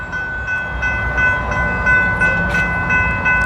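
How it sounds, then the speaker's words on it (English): A train approaching and rolling past outdoors, a steady low rumble of wheels and cars with sustained horn-like tones held throughout, fairly loud and continuous with no talking. "Oh, here comes the train actually. There's one actually coming."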